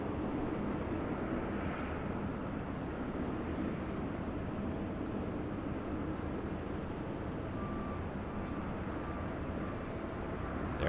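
An airplane on runway 25 right at LAX airport gives a steady, distant roar that holds evenly throughout, with no talking.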